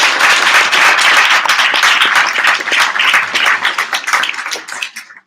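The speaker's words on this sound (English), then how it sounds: "let us give our panelists a round of applause." An audience at a symposium panel on artists of African descent gives the panelists a full round of applause, dense and loud at first, then thinning out and fading.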